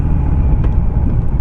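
A Harley-Davidson Sportster Classic motorcycle rumbling steadily as it is ridden, a loud, close, continuous low engine drone with wind noise and no speech.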